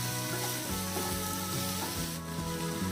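Chilli chicken sauce with red chilli powder sizzling loudly as it is stir-fried in a pan, a continuous close hiss with faint scraping of stirring, no voices.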